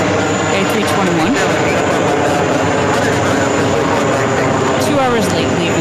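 An American Airlines Airbus A321 jet arriving at JFK from New York produces a continuous, loud engine rumble and rush that holds evenly throughout.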